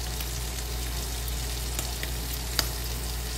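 Chickpeas toasting in a pan with salt, black pepper, paprika and Cajun spice, giving a steady soft sizzle with occasional faint ticks and stirring scrapes, close and continuous with no talking.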